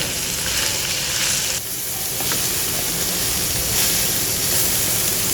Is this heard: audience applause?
no